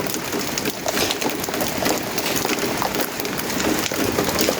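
Rain falls in a steady, dense hiss outdoors, a constant wash of drops with no break and no voices over it.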